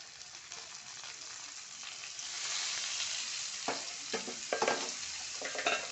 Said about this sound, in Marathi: आता याच्यात टोमॅटो टाकते